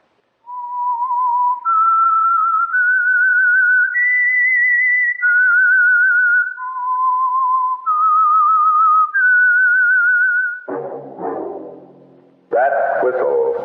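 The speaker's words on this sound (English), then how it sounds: "That whistle is your signal, the Whistler." A clear, loud whistled tune serves as the signal of the old radio drama The Whistler, its single pure melodic line rising and falling for about ten seconds before a brief announcer's voice follows.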